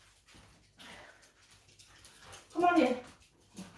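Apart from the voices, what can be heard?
dogs being let into the house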